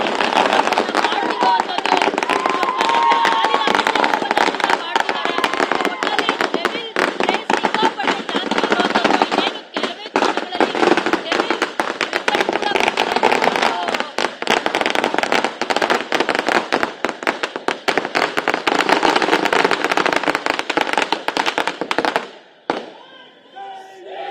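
Fans set off firecrackers outside a cinema at a film release celebration. The dense, rapid crackling and popping goes on for over twenty seconds, loud and close, with crowd noise mixed in before it suddenly drops away.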